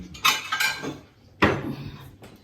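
Ceramic clatter as a plate is set down, with a sharp clink followed by a second, louder knock against a hard surface about a second later.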